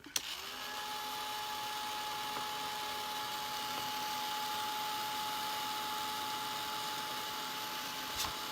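Handheld dryer blowing on fresh paint on a snowman painting, a steady close whirring hum with a faint high whine that starts with a click and runs unbroken to the end.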